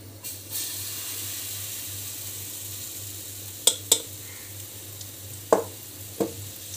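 Besan pola batter fries on a pan over medium heat with a soft, steady background sizzle, broken by a few sharp clicks and scrapes of a spoon spreading the batter.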